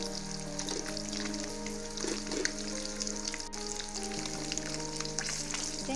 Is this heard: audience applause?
no